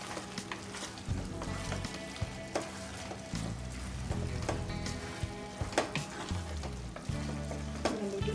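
Prawns and broad beans (avarakkai) frying together in a pan for a masala, with steady sizzling and clinks of stirring against the pan, fairly quiet with no talking.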